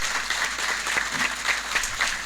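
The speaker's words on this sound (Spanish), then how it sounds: "Fuerte el aplauso" Steady audience applause for a doctor after his lecture on legal privileges in civil and bankruptcy law, a dense continuous patter of many hands clapping at a moderate distance, with no talk over it.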